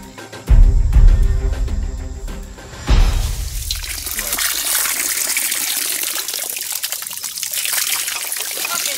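Rubber boots wade through a jungle river in the Amazon, with two heavy splashing steps followed by continuous sloshing, trickling water close by.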